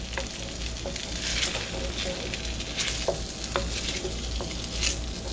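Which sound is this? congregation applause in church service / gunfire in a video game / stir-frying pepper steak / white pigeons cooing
stir-frying pepper steak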